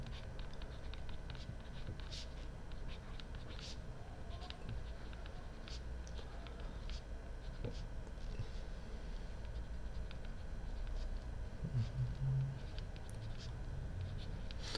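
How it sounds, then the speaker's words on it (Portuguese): Faint scratchy strokes of writing on a board during a maths lesson on matrices, quiet and intermittent over a steady room hum, with no talking. "Vou escrever aqui."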